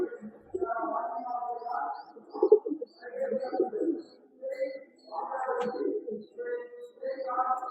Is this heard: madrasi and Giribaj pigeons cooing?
yes